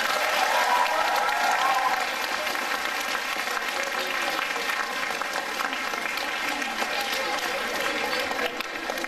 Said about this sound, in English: Well, thank you for the applause.